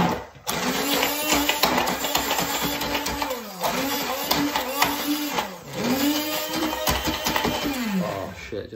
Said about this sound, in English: Get the old stick blender doodah.